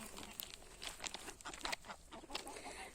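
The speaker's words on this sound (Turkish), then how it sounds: "Tavuklarımız orada." Chickens cluck in short, scattered bursts against a steady outdoor farm background, several birds close by with no talking.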